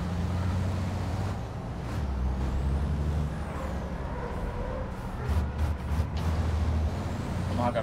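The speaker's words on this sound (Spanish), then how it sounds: "Frenos." A racing truck in the Truck Racing video game, played on Xbox One S, drones steadily as its engine rumbles, and sharp bursts of air brake hiss break in near the middle and end.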